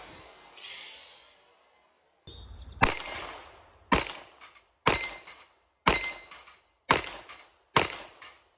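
A custom .45 pin gun fires at a range: six sharp, loud reports spaced about a second apart, each with a short ringing decay, following a quieter rustling stretch.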